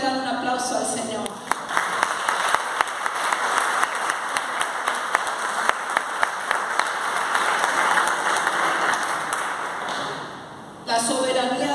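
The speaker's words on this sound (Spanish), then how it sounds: "¿Cuántos le dan un aplauso al Señor?" Church congregation breaks into sustained applause, many hands clapping steadily for about ten seconds, with a voice heard briefly at the start and again as the clapping fades at the end.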